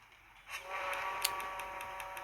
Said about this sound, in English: Blow my whistles.